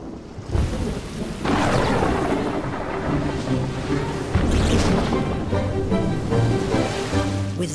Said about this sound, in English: Sometimes filled with a thunderstorm.